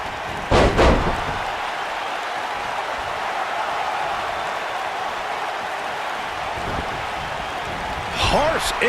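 A heavy wrestling slam lands in a WWE 2K19 tag team gauntlet match, a sharp loud impact near the start over constant crowd noise, with a second crash of impacts near the end.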